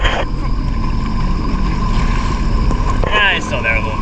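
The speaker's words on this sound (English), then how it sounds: "I think I may have fixed the hesitation in the idle though." A 2005 Sea-Doo RXT jet ski engine idles with a hesitation, a steady close drone with wind and water noise around it, then a short higher warble near the end.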